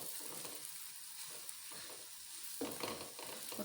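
A paratha cooks in ghee over a slow flame, giving a constant soft sizzle and crackle with some faint scraping and stirring, close but fairly quiet.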